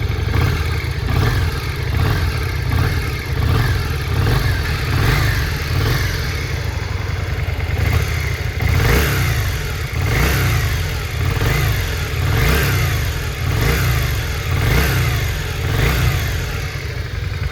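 Yamaha Virago 535 XV motorcycle engine running steadily, a loud close mid-pitched idle with rhythmic pulsing swells and light revving throughout, no talking.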